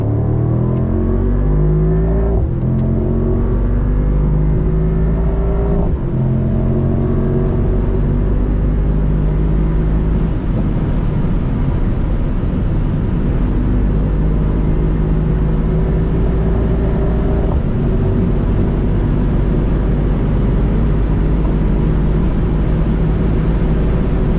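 A 585 hp Mercedes SL63 AMG in race mode accelerates hard on the Autobahn, heard from inside the cabin as a loud, continuous engine roar that climbs through several gear changes with brief dips between shifts.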